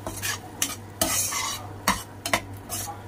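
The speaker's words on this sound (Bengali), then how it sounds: "এবার এটাকে ভালো করে আবার কষতে থাকবো।" Spiced masala for malai kofta frying in a pan: a low background sizzle is punctuated by several sharp, close scraping strokes of a spatula stirring against the metal.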